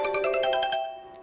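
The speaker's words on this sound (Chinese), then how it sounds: "资方爸爸又来电话了" A phone ringtone plays a bright, repeating chime pattern in quick regular pulses, fading out after about a second, with no talk over it.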